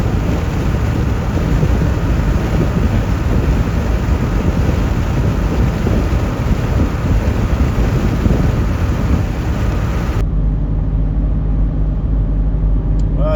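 A thunderstorm on a storm chase, heard as dense broadband rain and rumbling noise with wind buffeting, loud and continuous, then cutting to a quieter low rumble near the end.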